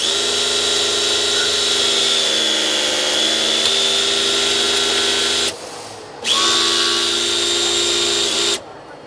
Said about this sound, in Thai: เดี๋ยวเราจะลองทดสอบนะครับปั๊มเหล็กได้สูงสุดนะครับ